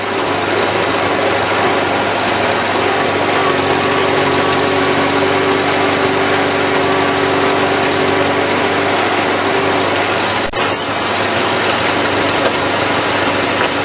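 A Farmall C tractor engine runs steadily after a single pull start following five months of sitting, with a loud, continuous mechanical chug and clatter and a brief disturbance near the end.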